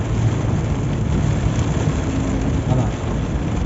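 A motorcycle passes alongside on the Anhanguera highway in heavy rain, its engine drone faint beneath steady hissing rain and road spray throughout.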